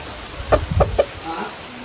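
A chicken gives three short, close clucks in quick succession, followed by a softer trailing cluck.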